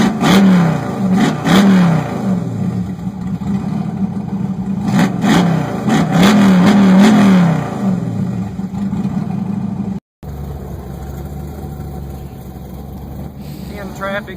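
Engine of an LS-swapped 1966 Pontiac Tempest cruising in traffic, a loud steady drone with rising and falling revs, cutting out abruptly near the end before a quieter engine note returns.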